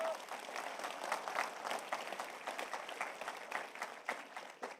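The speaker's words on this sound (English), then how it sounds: "Yeah, you can clap." Church congregation applauding during a Sunday service launch, a continuous wash of many hands clapping at moderate distance, steady throughout with slight swells.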